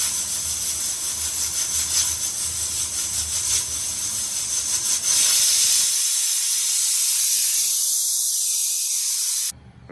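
A pressure cooker cooking goat trotters with pepper, star anise, cinnamon, cloves, fennel and bay leaf lets out a loud, steady hissing whistle of escaping steam that holds for several seconds, then cuts off abruptly.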